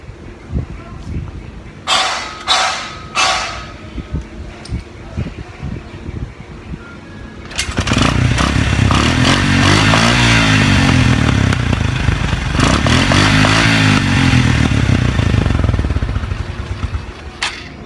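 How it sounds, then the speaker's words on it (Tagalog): A motorcycle engine with a dirty carburetor misfires, revving unevenly with rough, sputtering bursts close by, following a few short earlier engine blips and clatter in the background. "paparinig ko sa inyo yung tunog na palyado"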